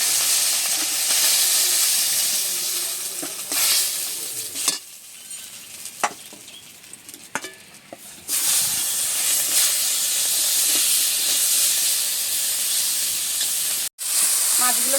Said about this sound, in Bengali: আর বাদ বাকি যে মাছগুলো আছে ওগুলোও ভেজে নেব।